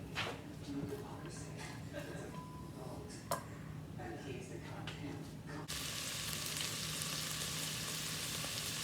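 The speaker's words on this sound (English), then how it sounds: "I'm going to put the onions in. We're going to lightly saute these" Chopped onions sautéing in melted butter in a pan, a soft continuous sizzle with faint stirring clicks, swelling into a brighter, louder hiss partway through as the onions settle into the hot fat.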